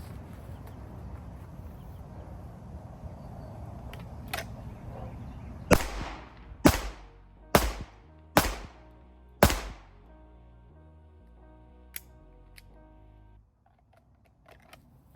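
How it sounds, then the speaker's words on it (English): Five sharp, loud handgun shots ring out in quick succession during an armed security shooting qualification on a range, evenly spaced over about four seconds, followed by a quieter lone report and fading range noise. "on the command of threat, shooter will fire 5 rounds in 9 seconds"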